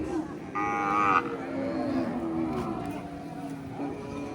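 Native calf at a cattle market moos once, loud and close, in a drawn-out call of about a second, with crowd murmur and other market noise continuing behind.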